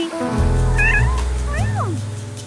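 A cat meows twice, close and loud, with rising and falling pitch over a steady low background hum.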